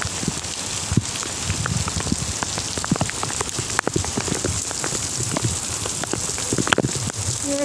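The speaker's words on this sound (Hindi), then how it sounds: "ये और तेज़, मतलब हवा में और भी तेज़ी है।" Heavy rain pours steadily during Cyclone Yaas in Odisha, with gusty wind roaring throughout and scattered louder drops and splashes hitting nearby surfaces; no voices.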